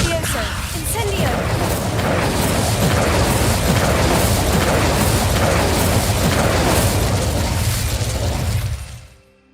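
Fiery bursts and crackling blasts of the Incendio fire spell in a Harry Potter video game, loud and sustained with repeated whooshing impacts, then cutting off abruptly at the end; voices shout over the effects.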